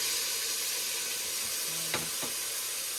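Leeks hit hot vegetable oil in a pan, giving a steady soft sizzle with a brief clatter of stirring, fairly quiet and close.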